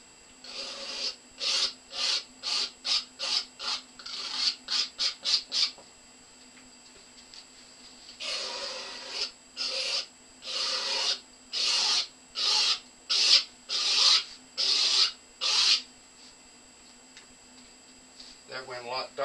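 Excess paint is rubbed off a painting in repeated rhythmic strokes, a dry scrubbing rasp in bursts that pause and resume, heard close.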